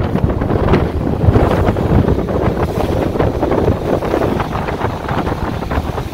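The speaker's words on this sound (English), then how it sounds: "It is windy." Strong wind buffets the microphone on a speedboat ride toward the Flower Pot Islands off Tobermory, a steady loud roar with rushing water and boat noise beneath, no voices.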